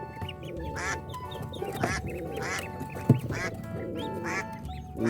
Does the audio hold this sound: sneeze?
no